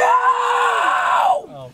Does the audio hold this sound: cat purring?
no